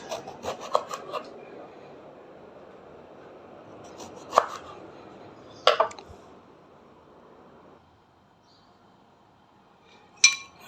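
A knife cuts through eggplant on a board in a few sharp, separate strokes spread out over time, close and crisp against a quiet kitchen background.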